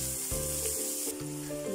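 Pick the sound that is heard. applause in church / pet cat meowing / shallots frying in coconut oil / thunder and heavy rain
shallots frying in coconut oil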